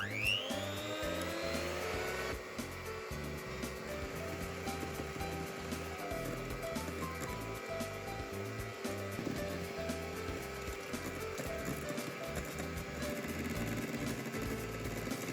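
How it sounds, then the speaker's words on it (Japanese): An electric hand whisk beats meringue at medium speed while a strawberry shortcake is being made. The motor whirs in a continuous, steady drone with a faint rattling texture for about fifteen seconds. "ホイッパーは中速で泡立てます。"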